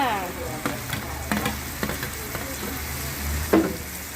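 Sweet and sour shrimp with chili sauce and scallions stir-fried in a pan, a loud continuous sizzle with repeated scrapes and tosses of the spatula, one sharper clatter near the end.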